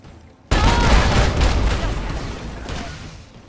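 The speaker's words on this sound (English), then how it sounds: "Those are grenade machine guns." Grenade machine guns in the video game Fallout 3, a loud burst of rapid explosive fire breaking in suddenly after a quiet moment, then a dense rolling barrage of blasts slowly fading.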